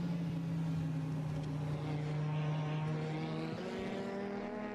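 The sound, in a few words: small race car engine in racing video game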